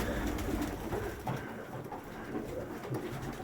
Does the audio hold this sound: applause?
no